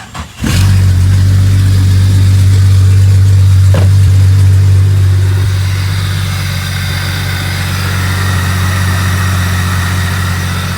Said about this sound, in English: I'm getting ready to fire the Jeep up.